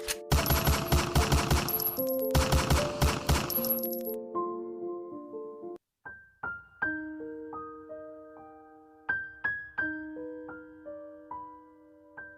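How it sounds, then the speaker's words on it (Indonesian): A rapid burst of gunfire in the Sakura School Simulator video game, close and sharp for about four seconds, followed by bright chiming game tones. "Tembak aja sekarang, apa tunggu-tunggu lagi."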